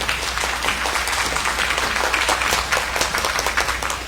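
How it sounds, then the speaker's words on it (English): A room at a city council meeting fills with applause, many hands clapping in an even, continuous patter that holds steady for several seconds. "Let's give them a round of applause."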